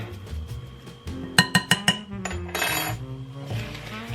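Salt, maple syrup and kombucha being stirred together in a jar for a fermented apple cranberry relish, a series of sharp clinks of a utensil against glass in a quick run, then softer scraping and clatter.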